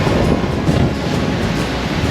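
Ocean waves off a Caribbean island, a loud steady rush of surf and wash with some wind buffeting the microphone, continuous throughout with no speech.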